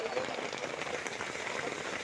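Rain drums on a tarp covering a roadside stall of custard apples and sweet limes at Undavalli Center in Guntur district, a faint, even patter that stays constant throughout.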